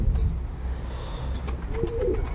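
Armenian Oktemberyan marble-necked pigeons coo softly in a loft, low murmuring calls rising in a couple of brief swells over steady background noise.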